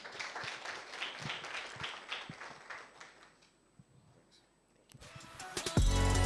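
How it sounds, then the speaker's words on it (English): Audience applause at a media roadshow launch event, a spread of clapping from the crowd that thins out and fades midway before louder handling noise rises at the end. "Please another round of applause for him."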